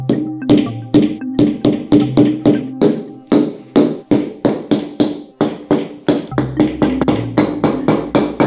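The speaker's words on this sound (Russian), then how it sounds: "бери молоток" A hammer taps repeatedly in quick, uneven bursts of sharp knocks, close and loud, with no voices.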